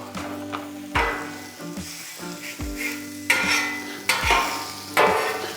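Finely shaved onions fry in oil on a Blackstone griddle with a steady sizzle, broken by repeated scraping and tapping hits of a metal spatula over a low tonal hum in the background.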